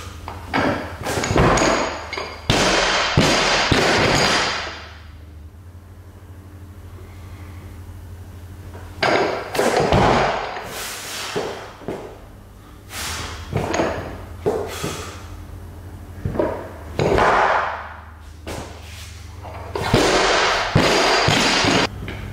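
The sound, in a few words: barbell thuds during weightlifting jerk attempts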